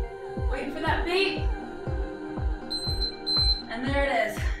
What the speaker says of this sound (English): Waiting for that beep.